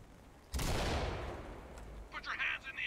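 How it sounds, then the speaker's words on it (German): A single loud blast of gunfire in the video game Ready Or Not bursts out and decays over a low rumble, followed by a few sharp, clattering sounds. "Von wo war die Schüsse?"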